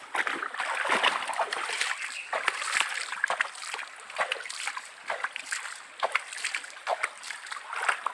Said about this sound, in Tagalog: Yan, babasain ko ng tubig.